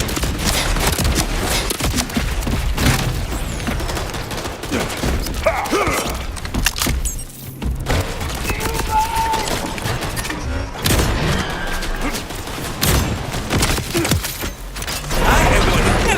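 Sustained gunfire in the video game Borderlands 4, dense and continuous bursts of shots with mechanical clatter running throughout, loud and close with little pause.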